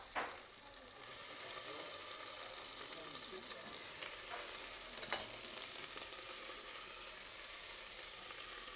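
Onions, garlic and ginger sizzle steadily in a pan while being stirred for a Nigerian yam goulash, a continuous bright hiss with occasional scraping clicks from the utensil, close and even throughout.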